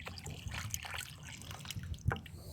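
Water is poured onto a newly planted fruit tree on a farm, making a faint, low splashing trickle with a few soft drips, all quiet and close.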